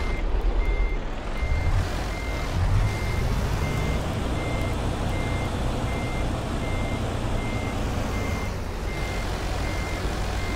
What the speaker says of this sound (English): Look at me backing up fast like I'm an expert truck driver.